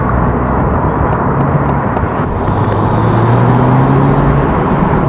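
A MINI Cooper S Convertible driven along a twisty road, a continuous loud engine drone and road roar with pitch gently climbing as it accelerates.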